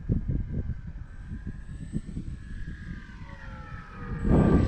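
Dynam Waco RC biplane in flight on a windy day, a faint buzzing electric motor drone with pulsing wind gusts buffeting the microphone, swelling louder near the end.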